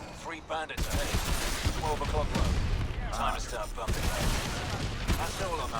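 Rapid bursts of gunfire from the video game Call of Duty: Advanced Warfare, loud and dense, with someone talking over the shooting.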